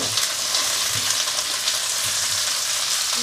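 Chopped onion frying in rendered bacon fat in a pan, a dense continuous sizzle with faint stirring scrapes, steady and close with no talking.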